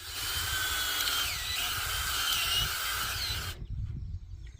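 A powered auger digging planting holes for asparagus in a garden, a steady loud buzzing whine running close for several seconds before cutting off abruptly, leaving faint rustling.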